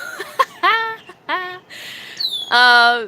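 A pet bird named Peyton chirps and whistles in short, bright bursts with pauses between, close by in a quiet room, ending on a longer sustained call.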